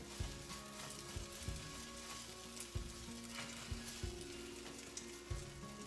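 An Italian omelet frying in a pan gives a steady, close sizzle that runs the whole time, broken by a few soft clicks and taps from the pan.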